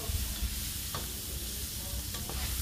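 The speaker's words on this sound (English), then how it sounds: "Stirring it around some more." Cabbage and vegetables stirred while frying in a pan: a steady low sizzle runs throughout, with a couple of brief scraping stir strokes standing out near the middle and end.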